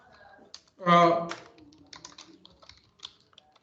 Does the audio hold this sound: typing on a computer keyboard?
yes